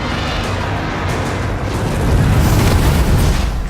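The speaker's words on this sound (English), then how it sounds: "Drogon's fire blasting does a lot of damage" A Game of Thrones dragon fire blast effect roars as a loud, continuous broadband rush that swells stronger partway through, like a sustained explosion.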